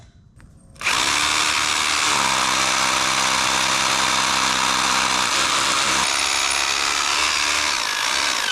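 A powered hammer drives a rod down into the ground for a concrete pad, a loud steady rattling roar that starts abruptly and runs on continuously, its pitch shifting partway through as the rod bottoms out.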